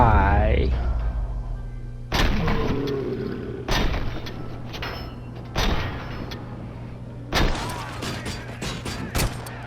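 Gunfire in the Robocop Rogue City video game, a series of sharp, loud single shots spaced a second or two apart, ending in a quicker volley, with a voice briefly at the start.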